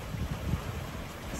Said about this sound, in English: We just had a gust of 33 knots.